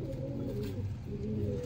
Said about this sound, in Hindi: ये लाखे कबूतर है ओरिजिनल माशाल्लाह।